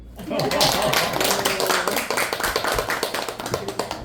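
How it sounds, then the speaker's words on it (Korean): An audience at a poetry literature lecture breaks into applause, a loud, dense burst of clapping that thins into scattered claps, with people talking through it. "박수."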